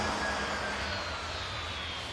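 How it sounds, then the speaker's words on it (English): An Embraer jet at Manchester Airport gives a faint, distant engine hum with a thin high whine, steady and quiet across the short stretch. "it's an Embraer"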